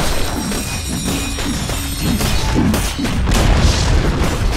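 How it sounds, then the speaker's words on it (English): Dota 2 match with Dire's top tower under attack: a dense, steady stream of booming impacts, thuds and crashes from the battle, loud and continuous with a sharper burst near the end. "Dire's top tower is under attack."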